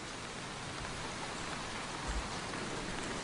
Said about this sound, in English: They say sunny Devon, but you still get the rain, right?